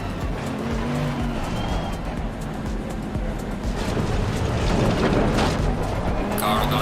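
GT3 race cars in the Assetto Corsa Competizione sim racing game, a continuous engine roar with tire noise and cars passing close, rising slightly toward the end, with someone talking over it.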